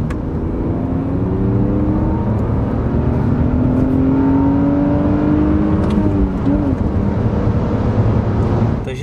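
A high-mileage BMW E46 with a six-cylinder engine, about 372,000 km on it, revs loudly and close up, rising in pitch and falling back in smooth sustained sweeps, with no talking over it.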